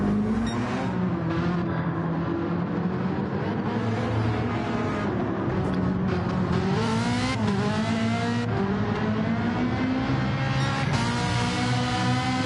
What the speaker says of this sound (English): But McBeath holding them off in that Corvette